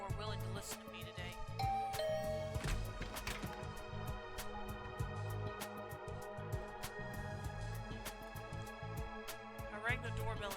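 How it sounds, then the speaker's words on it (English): A soft two-note ding-dong chime rings like a doorbell in the video game The Hundred Line: Last Defense Academy, set against a quiet, steady game music backdrop with light tinkling tones. "I rang the doorbell and waited."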